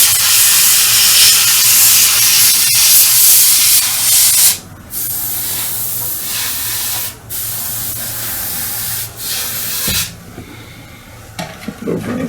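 Paint spray mists onto a StuG III Ausf G scale model, an airbrush hissing in steady, close bursts broken by short pauses, with no one talking.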